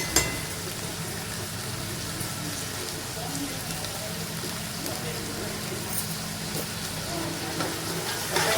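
Vegetables for Surti undhiyu frying in hot oil on a gas stove, giving a steady, dense sizzle that runs unbroken throughout at an even level.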